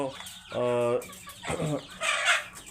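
Hill breed chickens cluck and squawk nearby in a few short bursts, one drawn-out call followed by quicker, scratchy clucks.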